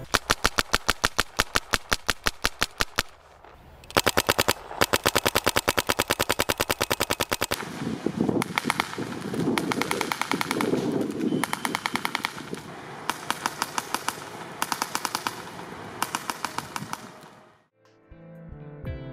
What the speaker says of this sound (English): the sound signature of the gun was a little bit sharp, but that could have been the barrel